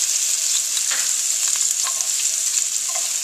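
Chopped onion sizzling in a little olive oil in a pan, a steady bright frying hiss with faint stirring scrapes, close and continuous with no talking.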